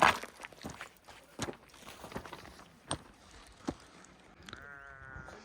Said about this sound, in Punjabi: ਭੇਡਾ ਵੈ ਵੈ ਕਰਦੀਆਂ